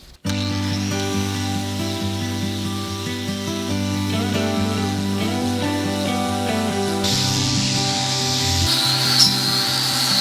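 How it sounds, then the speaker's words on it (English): A machine fitted with a 50 grit diamond sandpaper disc grinds across a concrete bathroom floor, producing a loud, continuous abrasive drone with a steady motor hum that holds throughout and roughens slightly toward the end. "I've ran 50 grit diamond sandpaper over this whole floor."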